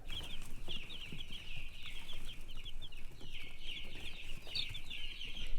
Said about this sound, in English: 100 Cornish cross meat chickens